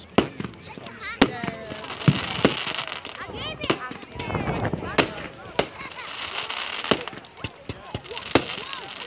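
Bonfire night fireworks at a rugby club, sharp loud bangs and crackling bursts going off at irregular intervals nearby, with people talking and chattering throughout.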